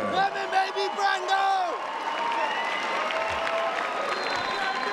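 Fight-night crowd in a Burbank Marriott ballroom roars and applauds after a bout ends with an elbow, a dense wash of clapping and cheers with whoops rising early, while a loud amplified voice talks over it throughout.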